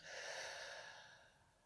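A long, slow breath out during a guided relaxation breathing exercise, a soft airy whoosh close to the mic that starts strong and gradually fades.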